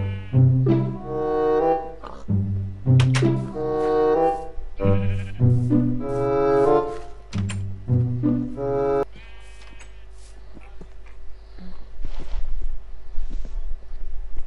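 Sheep in a video game bleat repeatedly in loud, close, wavering cries, one after another over a steady background hum, with no talking.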